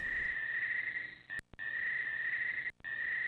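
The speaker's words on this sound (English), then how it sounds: "There's nothing much in this direction but crickets." Crickets chirp in a steady, high continuous trill, briefly cut off twice, as ambient nighttime sound in the Castle Quest text adventure game; faint and alone with no voices.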